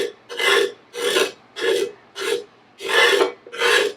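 A spatula scrapes cooked cornmeal off a hot griddle used for English muffins made with freshly milled flour, giving six rhythmic raspy strokes of about half a second each, close and loud, with brief pauses between them and no talking.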